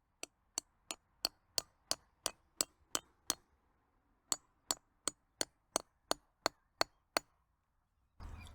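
A no-name generic drill bit hammered into rock gives a run of sharp, evenly spaced metallic tinks, about ten strikes, a short pause, then another similar run, close and clear with nothing else around it.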